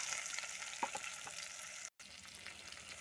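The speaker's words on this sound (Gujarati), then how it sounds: "પછી એના ઉપર આપણે ડુંગળી નાખી દઈ." Chopped onions hit a pan with curry leaves for bateka paua, giving a steady, soft, hissing sizzle that runs throughout, broken by one very short gap of silence.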